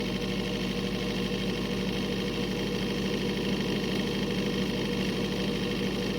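A seed treater's chemical pump runs with a steady, continuous mechanical hum and whir, unchanging and moderately loud, with no talk over it.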